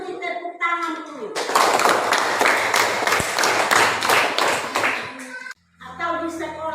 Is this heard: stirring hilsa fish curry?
no